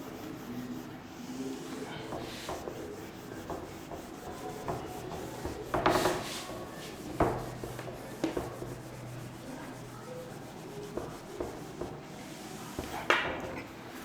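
A duster rubs across a classroom board to wipe out a question, a continuous scratchy rubbing with repeated louder strokes and scrapes, close and steady over the whole stretch.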